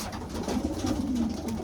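A very young pigeon, its flight feathers and tail clipped, coos in a low continuous warble while being held in the hand, close and steady with no talking.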